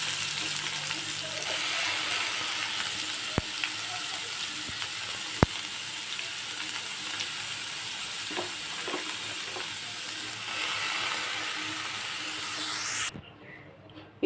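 Tempering spices sizzle in hot oil for a minapa vadiyalu pulusu curry, a steady close hiss with a few sharp clicks and pops, ending abruptly in near silence.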